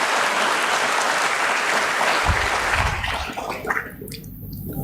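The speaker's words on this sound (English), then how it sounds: "a big round of applause for all the people who work" An audience applauds at a stock exchange listing ceremony for Landmark Cars at BSE, dense sustained clapping that fades out over a few seconds.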